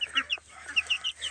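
Ducklings and young chicks call close by in a quick run of high, piping peeps and chirps, several overlapping in brief bursts.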